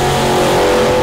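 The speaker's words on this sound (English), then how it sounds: "to be able to come out today and finally have the vehicle go down a track" A Chevrolet COPO Camaro race car roars loudly and close as it accelerates down a drag track, a dense, continuous engine blare.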